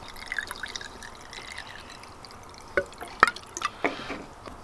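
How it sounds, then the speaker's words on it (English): Small amount of petrol poured into the fuel chamber of a Solex 30 PICT carburettor, heard as soft, scattered drips and light splashes against a quiet background, close by, with no talking. "This is how you pour a little bit of petrol into the carb chamber."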